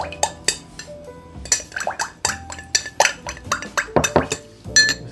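A spoon clinks repeatedly against a glass while a Singapore Sling with cherry liqueur is stirred, producing bright, irregular metallic chinks and rattles close up, with no talking.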